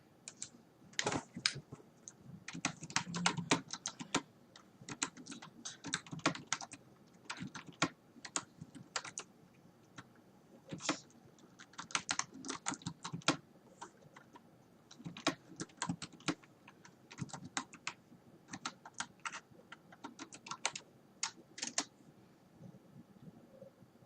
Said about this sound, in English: let's try typing that one more time